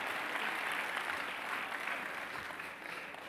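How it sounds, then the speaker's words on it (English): Sustained audience applause at a church comedy or variety show, a steady wash of many hands clapping throughout, fairly faint and distant, with no one speaking over it. "Carl Douglas, give him a round of applause"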